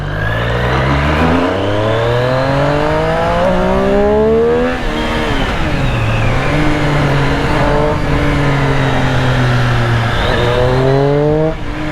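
A Triumph Street Triple superbike engine revving hard and close, its pitch climbing in repeated sweeps as it accelerates through gears, dropping briefly and rising again, loud and continuous with no talk.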